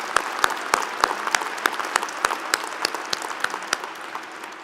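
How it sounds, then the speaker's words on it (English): Applause from families and guests at a McGill University fall convocation, with scattered clapping and distinct sharp individual claps spiking over a thinner background of hands, tapering slightly toward the end. "let's give you a round of applause"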